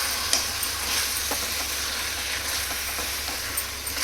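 Chicken mixed with garam masala for chicken pulao is stirred in a pot, a soft steady sizzle with faint occasional scrapes of a spoon, no talking.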